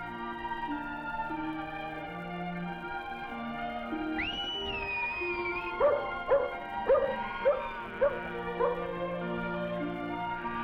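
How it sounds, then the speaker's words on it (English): A Highland shepherd's rising, warbling whistle, then a sheepdog's run of short sharp barks in quick succession over a steady background drone. "Follow the sound of a Highland shepherd whistling commands to his dog."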